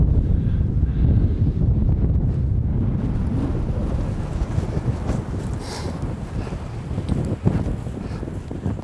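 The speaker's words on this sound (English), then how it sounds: "Windy!" Strong outdoor wind gusts buffet the microphone as a rainstorm approaches at a New Mexico elk hunting spot, producing a steady low roar that swells and eases throughout with no talking.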